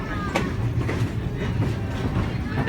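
Wooden passenger coaches on a moving train clatter steadily around curves, with rhythmic clickety-clack of wheels over rail joints and faint squeals, close and loud throughout.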